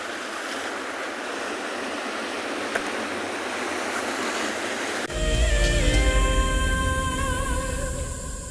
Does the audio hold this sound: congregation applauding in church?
no